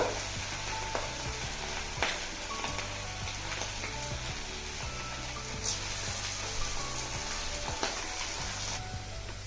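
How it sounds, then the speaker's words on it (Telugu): Carrot pieces for spicy Carrot 65 deep frying in oil over a medium flame: a continuous, bubbling sizzle with occasional clinks and stirring, steady and close. "డీప్ ఫ్రై అండి మీడియం ఫ్లేమ్ పెట్టుకోండి"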